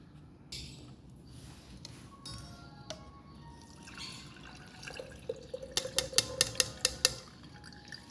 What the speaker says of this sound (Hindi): इसको अब हम छान के जार में निकाल लेते हैं।